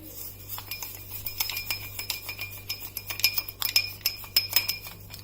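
A teaspoon stirs a mix of instant coffee and a teaspoon of water in a cup, giving rapid, bright metallic clinks against the rim in irregular bursts, close and clear, with no talking.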